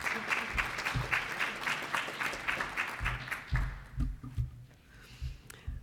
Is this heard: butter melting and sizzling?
no